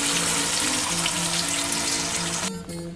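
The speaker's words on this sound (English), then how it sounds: "Next, we'll add the grinded masala that we have already grinded in the jar." Ground masala paste hitting a hot pan with bay leaves in a home kitchen gives a loud, steady, broadband sizzle that holds for the whole stretch and thins out near the end, with no talking.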